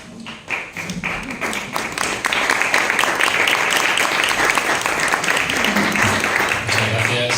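Audience applause at a Spanish-language philosophy talk on a youth project, dense steady clapping swelling after a brief start and sustained through the clip, with some voices mixed in.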